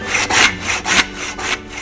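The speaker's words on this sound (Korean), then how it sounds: "나가가 저 나무는 참말로 잘 자르지라" Firewood being cut by hand with a saw at a rural farmhouse in winter. Steady, close push-and-pull strokes rasp through the wood in an even rhythm, about three strokes per second, loud and alone.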